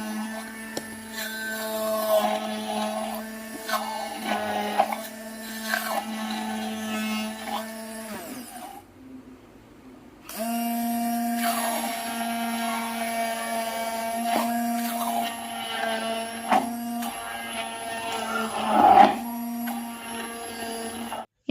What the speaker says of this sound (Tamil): வாட்டர்மெலன் ஜூஸ் அது கூடவே வந்து அந்த ஜார்லேயே வச்சு ஹேண்ட் பிளெண்ட் பண்ணி